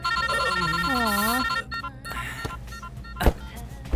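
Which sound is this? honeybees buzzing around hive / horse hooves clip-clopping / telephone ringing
telephone ringing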